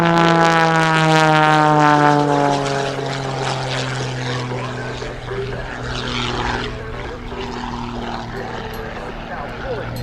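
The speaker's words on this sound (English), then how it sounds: "He actually forward somersaults the airplane at times" An aerobatic propeller airplane performs at the 2017 Wings Over Houston air show, its engine drone loud and sliding downward in pitch as it passes, then settling into a steadier, more distant hum; a commentator talks over it.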